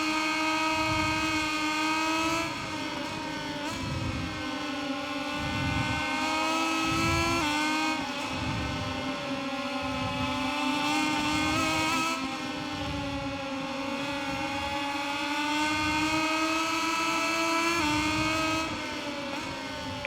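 A Moto2 racing motorcycle engine in the game MotoGP 21, with loud, steady high-revving engine whine rising and falling through gear shifts and throttle changes over the whole stretch, no talk.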